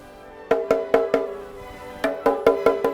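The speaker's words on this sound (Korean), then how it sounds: "북치는 소리" A drum is beaten with clear, ringing struck hits in two bursts of about four to five beats, separated by a short pause, with a resonant pitched tone behind them.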